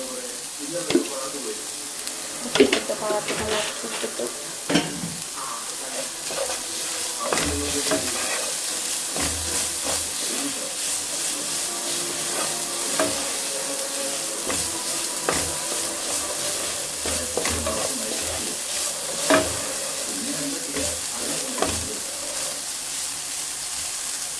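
Chilli, coconut and onion sauté in a pan with a steady sizzle, punctuated by frequent scraping and clinking stirs of a spoon against the pan throughout.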